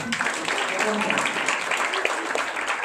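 A church congregation claps, a soft, fairly distant patter of many hands running steadily under voices throughout the short span.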